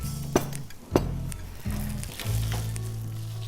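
Food sizzles steadily in a pan with butter for Pinoy spaghetti, marked by a few sharp clinks of a utensil against the metal early on and a louder, fuller frying hiss toward the end.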